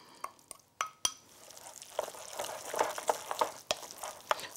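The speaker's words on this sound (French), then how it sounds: "on mélange bien le beefsteak haché maigre avec tout le reste des ingrédients" Lean minced beef being worked together with the other ingredients for sesame beef bites: soft, scattered clicks and squelchy mixing noises, fairly quiet and close, with no talking.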